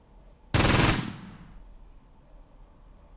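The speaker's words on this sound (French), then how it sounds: "Ouh, ça tire à nouveau." A sudden loud burst of gunfire from the Close Combat war game erupts on the front line, a dense crackling volley lasting about half a second that fades into a rumbling echo and then quiet.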